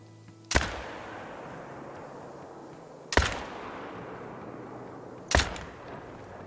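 Three loud, sharp rifle shots at a bear in the hunting video game Call of the Wild, spaced a few seconds apart, each ringing out with a long fading echo and no talk.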